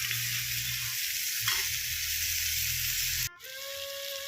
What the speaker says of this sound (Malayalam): ഒരു 2 ചെറിയ തക്കാളി ചെറുതാക്കി അരിഞ്ഞ് ചേർത്ത് കൊടുക്കുന്നുണ്ട്.